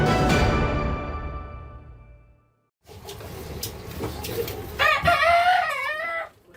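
Live chickens, eleven birds seized by Papua quarantine officers from an illegal shipment bound for Jayapura, cluck and squawk nearby, with one rooster crowing loudly near the end after a brief pause.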